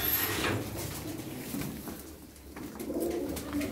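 Soft pigeon cooing close by, low repeated throaty calls with some faint rustling and shuffling sounds in between.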